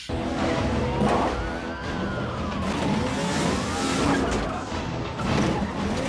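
Cars race through a chase in the film Piège en eaux troubles, engines roaring loudly with sliding tire squeals sweeping up and down over a dense mix of traffic noise, no talk.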